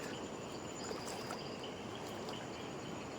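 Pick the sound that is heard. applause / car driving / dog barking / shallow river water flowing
shallow river water flowing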